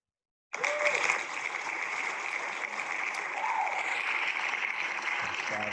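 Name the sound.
crowd applause sound effect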